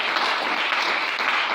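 A church congregation applauds in praise, a dense, sustained burst of clapping from many hands that fills the room at full level throughout.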